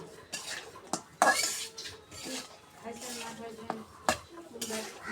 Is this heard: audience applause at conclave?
no